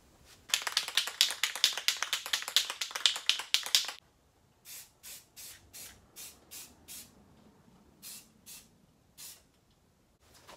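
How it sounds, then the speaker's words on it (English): Brake cleaner spray is hissed onto the front brakes of a Toyota 4Runner, first in a rapid run of short pulsed bursts, then after a pause in about ten separate short sprays, close and alone. "Wash it down with some brake clean."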